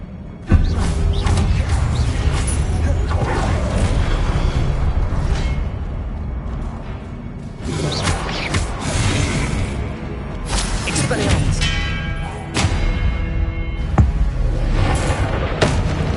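Repeated booming spell blasts and explosive whooshes from the Confringo fire curse in Hogwarts Legacy, aimed at statues, hitting in a dense, loud, continuous barrage with shattering crashes.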